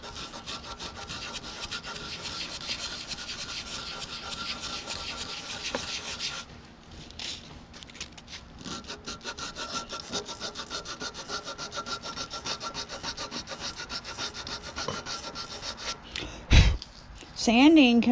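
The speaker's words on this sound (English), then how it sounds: "I'm gonna use some finer sandpaper. This is 220 here." Hand sanding of a wood-turned wand with fine 220-grit sandpaper gives a steady, close scratchy rubbing in continuous strokes, with a brief pause midway and a short knock near the end.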